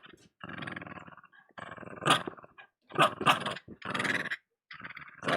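A dog growls playfully in several rough, rumbling bursts close to the microphone, with brief pauses between them and no talk over them.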